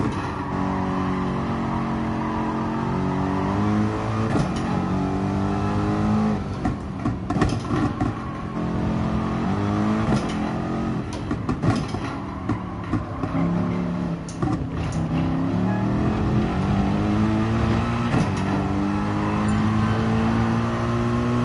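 Race car engine in the GT Sport racing game at Barcelona, a loud continuous roar that rises and falls through repeated gear shifts and throttle changes, sustained without a break for about twenty seconds.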